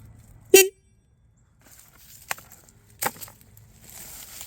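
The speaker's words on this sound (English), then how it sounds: "So I've added a horn, and we tucked this thing up in here in the air box." A horn fitted inside the air box of a 2025 KTM 300 XC-W dirt bike gives one short, sharp beep, followed by a few fainter knocks and a second brief blast.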